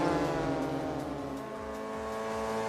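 Race cars roar around Laguna Seca in a racing game, steady buzzing engine tones with shifting pitch as several cars run close together, loud and continuous.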